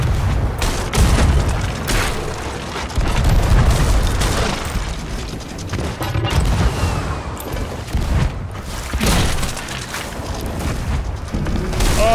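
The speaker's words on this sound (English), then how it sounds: "Cannons, get ready." Repeated heavy booms and blasts of ship cannon fire in the pirate video game Sea of Thieves roll through a dense, loud mix, with bursts clustering every few seconds like a rapid cannon barrage.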